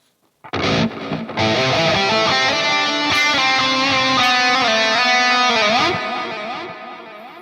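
An electric guitar plays a sustained, chiming phrase soaked in lush reverb, notes ringing and blending into a wide, washy tail.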